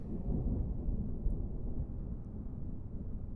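An approaching thunderstorm in the video game Kerbal Space Program gives off a low, steady rolling rumble of thunder that lasts a few seconds at moderate loudness, with no voices over it.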